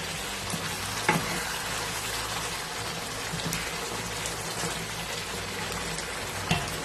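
Whole brown-red chillies frying in oil for a Pakistani beef stew, stirred in the pot: a steady, dense sizzle throughout, with occasional clinks of the spoon against the pan.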